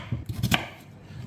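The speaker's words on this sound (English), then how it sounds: "Chop up your veggies." Knife chopping vegetables such as potatoes and carrots on a board for steaming with Atlantic salmon, a quick run of close, sharp cuts over about a second, then fading into quiet kitchen background.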